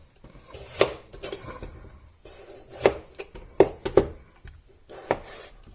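A knife cutting peeled potatoes into thin slices for a Spanish tortilla, with a handful of sharp, irregular taps on a board, close and fairly quiet, with soft rubbing in between and no talk.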